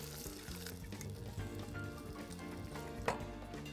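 Steady frying sizzle of eggplant in hot oil, crackling continuously throughout with a sharp pop near the end.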